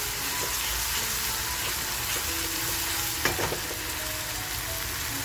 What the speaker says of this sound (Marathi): आता आपण जो मसाला वाटून घेतलाय तो मसाला टाकल्याने मस्त फ्राय करूया